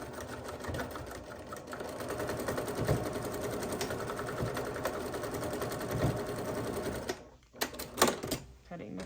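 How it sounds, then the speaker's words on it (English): Sewing machine rapidly stitching and back-stitching fabric, a steady fast mechanical chatter that runs evenly, then stops and restarts in short bursts near the end, close and clear. "Sewing over it once, back stitching, sewing over it again,"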